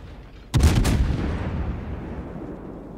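A single heavy naval gun salvo in World of Warships booms loud and close, then trails into a long, fading rumble.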